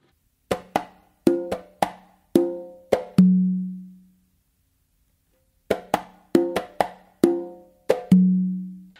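A cumbia pattern on three congas, played by hand twice: quick sharp slaps and mid-pitched tones lead into a longer ringing low open stroke, with a short silence between the two close, unaccompanied passes.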